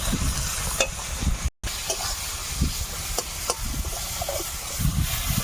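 Spice masala with ground coriander and Kashmiri chilli powder sautéing in a pan, a steady close sizzle with stirring scrapes throughout, briefly cut by a short silent gap.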